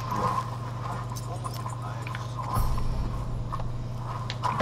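Rhythmic hoof clops and creaking harness over a steady low hum as a horse is hitched in the video game Red Dead Redemption 2, with some background voices.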